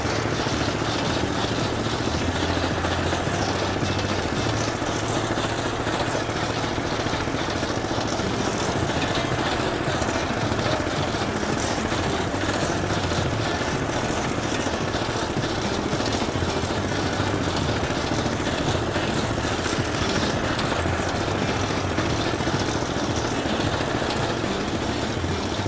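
An engine-driven drag saw runs steadily with the tiller on and the clutch engaged, its motor droning loudly and continuously throughout while the blade cuts.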